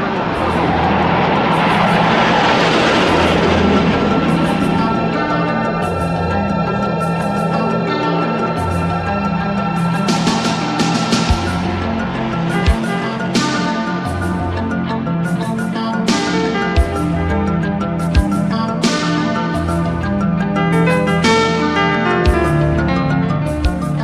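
Jet fighters of the Russian Falcons aerobatic team flying a display, a loud continuous roaring engine sound that swells early and sustains, with a few sharp thumps over it.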